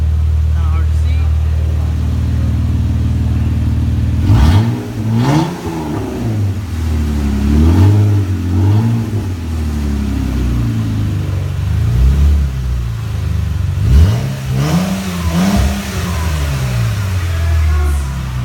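A 2013 Jeep Wrangler JK with an electronic exhaust cutaway revs repeatedly, several sharp rising and falling engine sweeps over a steady idle, close and loud.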